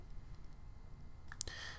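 Faint computer mouse clicks while a label is drawn in a web design program, a few soft quick clicks near the end over a low background hum.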